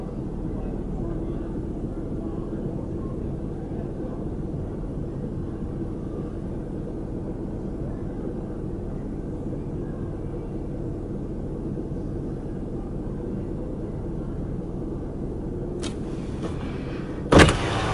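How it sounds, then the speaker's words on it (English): A truck moves with a low, steady engine rumble and road noise throughout, heard from inside a vehicle, ending with a brief mechanical click or thump. "But this truck started moving."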